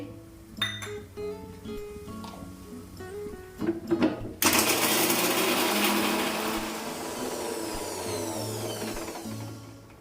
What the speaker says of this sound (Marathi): काजू बारीक करून घेते